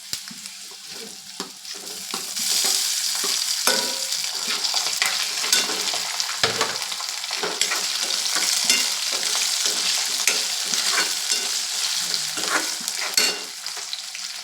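Potatoes sizzle and fry in a pan with curry leaves for batata poha, a spoon scraping and stirring in steady repeated strokes over a continuous close hiss, with no talking.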